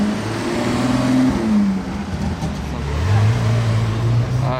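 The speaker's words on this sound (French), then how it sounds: "la C63 Black Series de GMK qui arrive juste derrière" A Mercedes C63 Black Series drives past close by, its deep engine rumble swelling and then dropping in pitch as it goes, over steady road noise.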